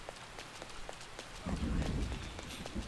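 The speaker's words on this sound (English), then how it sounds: "I love that the rain has little fish sound effects as it's going down." Steady rain falls in Persona 5 Royal, a continuous soft hiss with small periodic plinks like little fish splashes, swelling to a louder rumbling patch midway, with no talking.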